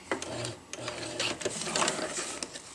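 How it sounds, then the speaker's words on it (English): A sewing machine stitches the side of a round zippered bag in short uneven bursts with clicks and pauses between runs, close and fairly loud. "We'll turn it around and sew on the other side."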